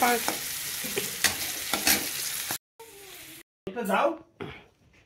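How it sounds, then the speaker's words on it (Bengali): Bitter gourd frying in a pan, a crackling sizzle with stirring scrapes close by, broken by brief cutouts, while a voice and a child's sounds come through over it. "উচ্ছেটা আগে একটু ভেজে নিচ্ছি"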